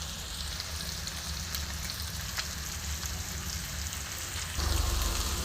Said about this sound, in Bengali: বেশ ভাজা ভাজা করব।